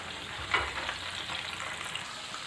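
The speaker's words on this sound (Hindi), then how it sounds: "इसी तरह से हम बाकी की भी चिकन जो है उसको फ्राई कर लेंगे" Tandoori chicken pieces fry steadily in hot oil, a continuous close crackling sizzle with one brief louder pop near the start and no voices.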